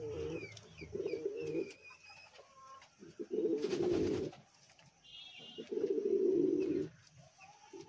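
A king pigeon coos in three separate, low, throaty bursts. Faint chirps from other birds sound in between in a quiet loft.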